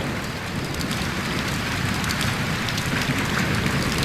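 Heavy rain from a darkened sky, a dense, loud, steady downpour pattering on surfaces, heard alone and unbroken throughout, used as an effect in a Bengali ghost story.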